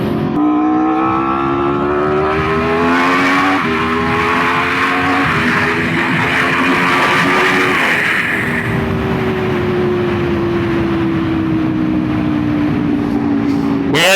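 Motorcycle engine revving hard through a quick roadside speed test, loud and close, climbing through several gear shifts with rising whine between changes and a long steady pull at the end.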